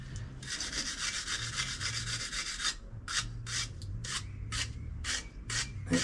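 Rusty parts from a cheap Y2K Dyno GT bike being wire-brushed, a steady raspy scrubbing for a few seconds, then a run of short, quick brush strokes in rhythm, close and fairly loud.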